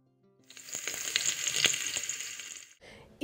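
Chopped onion dropped into hot ghee with whole spices, sizzling and crackling loudly for a couple of seconds before settling, with a light stirring scrape at the end.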